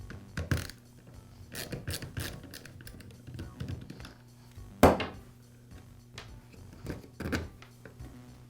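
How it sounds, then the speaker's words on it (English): A screw taken out of the starter rope pulley on a Poulan chainsaw, heard as small close clicks, taps and ratcheting tool sounds, with one sharp knock midway and faint background hum. "I can remove the rope from the pulley by removing this screw."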